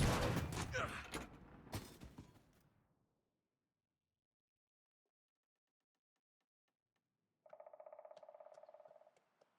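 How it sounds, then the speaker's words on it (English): Explosion set off in a bunker in the video game The Long Dark: a loud, crackling blast that rumbles and fades over about two seconds, followed by silence and a quieter mechanical hum. "Leave the bunker and an explosion will occur."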